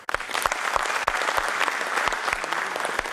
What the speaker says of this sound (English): finally, one huge round of applause for you guys